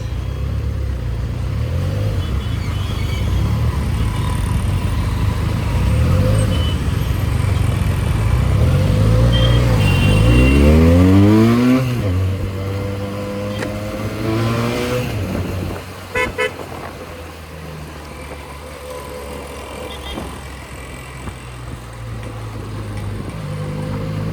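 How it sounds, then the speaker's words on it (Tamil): Heavy road traffic: a constant roar of car and motorcycle engines, with rising and falling revs from passing vehicles and a few short horn toots, loud and close. "ஹெவி டிராஃபிக் கைஸ் இந்த இடத்துல. டிராஃபிக் எப்பயுமே இப்படி தான் இருக்குது."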